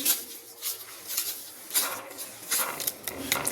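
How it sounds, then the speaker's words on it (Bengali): A spoon scrapes and clinks rhythmically against a bowl as a packet of coffee is stirred into an aloe vera mixture, close by and moderately loud with no voices. "এখন আমি এখানে 1 প্যাকেট কফিটা মিক্স করে দিচ্ছি।"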